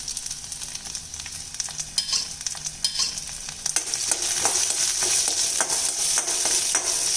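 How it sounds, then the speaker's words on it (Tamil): Small onions, garlic and ginger saute in a pan for a tomato kurma, a soft, quiet sizzle with scraping stirs that grows steadier and louder partway through. "இப்போது சின்ன வெங்காயம் பாருங்கள் நல்லா வதங்கி வந்துடுச்சு"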